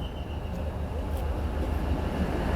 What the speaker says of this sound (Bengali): ফাইনালি কিন্তু আমাদের শ্রীনগর যাওয়ার ডিএমইউ লোকাল ট্রেন চলে এসছে